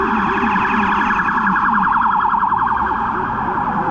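A loud, close warbling siren wails continuously, its pitch rapidly oscillating up and down, with no voices.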